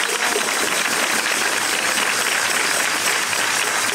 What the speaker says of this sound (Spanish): así que también para la Escuela de Música un aplauso